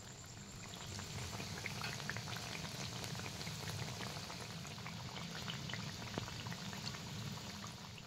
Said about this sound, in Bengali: কিছুক্ষণ পরেই দেখবেন জিলিপিগুলো এইভাবে তেলের মধ্যে ভেসে উঠেছে।